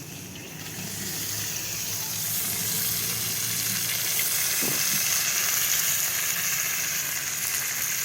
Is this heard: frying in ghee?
yes